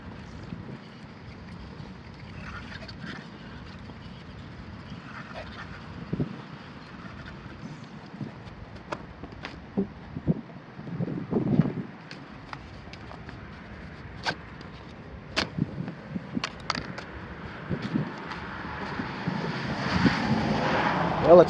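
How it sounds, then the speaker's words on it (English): Gusty outdoor wind buffets the microphone in a low, uneven rumble, steady at moderate level with sporadic sharper gusts and thumps, building toward the end. "it's kind of windy out here"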